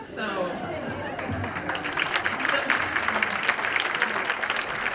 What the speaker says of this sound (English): that alone deserves an applause